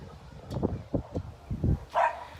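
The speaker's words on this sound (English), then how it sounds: "I'm sure my crazy dogs are going to come too" A dog barking while chasing birds in a tree outdoors, a few quick, sharp barks and yips in a short burst, near and moderately loud, ending in a higher yelp.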